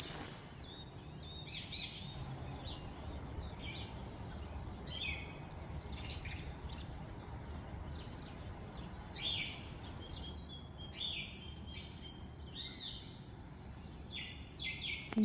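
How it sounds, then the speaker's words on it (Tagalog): Wild birds chirp and sing in the cold, with many short high calls scattered throughout over a steady low background hum at moderate distance. "Ayun sila, yung mga ibon na nahuni."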